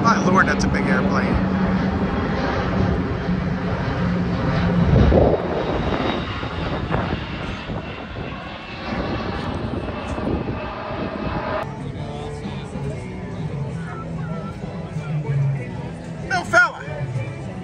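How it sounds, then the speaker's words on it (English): A large airplane roars overhead at Marathon in the Florida Keys, loud and broad at first, then fading into a distant rumble while people chatter in the background. "My Lord, that's a big airplane."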